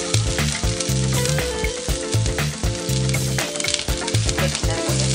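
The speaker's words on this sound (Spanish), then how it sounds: "Y aquí las voy a estar friendo." Poblano chili strips sizzle and crackle steadily in a hot clay pot, with occasional stirring scrapes and no voices.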